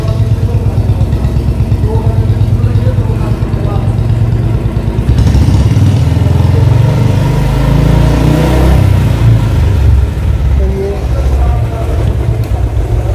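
A Royal Enfield Bullet 350 BS6 motorcycle with a battery charging fault fires up and settles into a loud, steady thumping idle that shifts to a heavier, rougher beat partway through, recorded up close.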